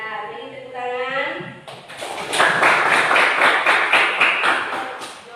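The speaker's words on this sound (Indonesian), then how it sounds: "beri tepuk tangan" A classroom group breaks into rhythmic clapping right after a voice finishes speaking. The close, steady hand claps last a few seconds.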